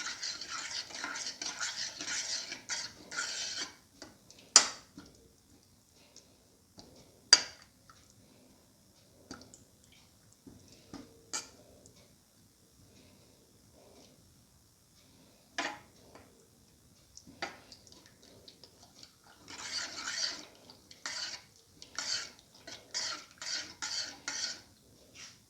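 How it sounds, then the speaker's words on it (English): Sugar being stirred into a sweet banana and vermicelli pasta mixture with milk, giving bursts of soft scraping and clinking against the bowl, separated by quieter pauses and single sharper taps. "Mix the sugar thoroughly with the rest of the mixture."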